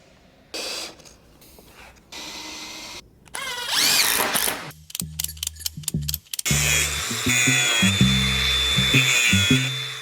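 Power drill during a wall-mounting job, starting with a few short whirring bursts and then running in a longer high whine, mixed with choppy rhythmic mechanical pulses and gaps of quiet.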